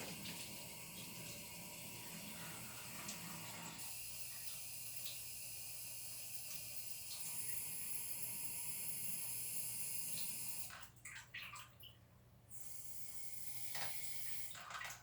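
Water streams steadily into the cleaning cartridge of a Kangen 8 water machine, a continuous hissing pour that stops abruptly near the end, followed by brief splashes and clatter.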